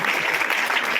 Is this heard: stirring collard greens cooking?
no